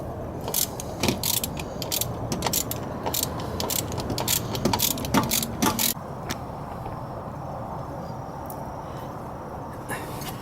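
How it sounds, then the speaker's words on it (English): A half-inch socket ratchet loosens the bolts holding a brake caliper, giving a rapid series of sharp clicking pawl strokes for about six seconds, followed by a steadier low background hum. "Get a 1/2-inch socket and loosen up the 2 bolts that hold the brake caliper on."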